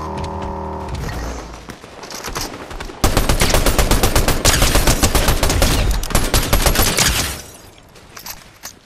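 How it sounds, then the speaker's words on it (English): Heavy automatic gunfire in a Fortnite Zero Build match, a dense rapid burst of shots loud and close for several seconds, beginning after a quieter stretch and thinning out toward the end. "I hear shooting."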